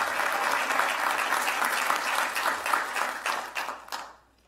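A crowd applauds steadily at a police command college graduation ceremony, dense clapping from many people that thins out and fades near the end.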